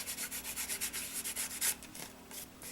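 Rub 'n Buff is worked onto a tissue-paper book cover in quick, rhythmic rubbing strokes, a soft, close scratchy brushing that repeats steadily and then slows, with no voices.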